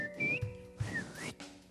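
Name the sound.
whistling imitating mom calling kids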